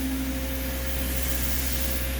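A pump sprayer mists BioPro 10K pre-treatment onto a dirty carpet, making a steady, even hiss over a low mechanical hum that continues without a break.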